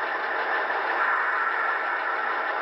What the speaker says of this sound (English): There's brake squeal.